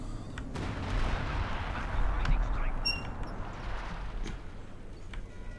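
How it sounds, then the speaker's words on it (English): Artillery barrage from Company of Heroes 2 pounding a howitzer position, heavy booming impacts rolling under a constant rumble of battle noise, with a commentator talking over it. "max range barrage on Locke's howitzer"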